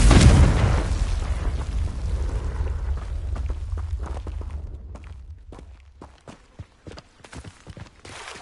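A Confringo fire spell in Hogwarts Legacy bursts with a loud, close boom at the start, then a long rumbling fade and a few light footstep-like taps, with no voices.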